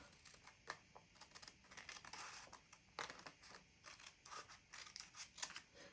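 Faint, close snipping and crisp paper cutting, a series of short irregular slices with light rustling between them, no voices.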